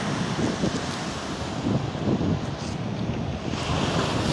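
Surf rolling onto Sanur Beach in Bali, with steady wind buffeting the microphone and low rumbling waves washing in continuously, loud and close, with no voices.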